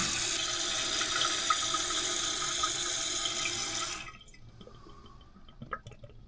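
A toilet flushes with a loud rushing of water that cuts off sharply, followed by quieter trickling and drips as the tank refills after a float valve replacement.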